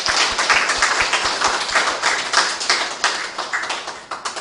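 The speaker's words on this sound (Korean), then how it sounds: "우리 한 해 동안 수고해 주시라고 우리 박수 부탁드리겠습니다." A church congregation at a Sunday worship service applauds steadily, many hands clapping in a dense, continuous patter for several seconds, with no talking over it.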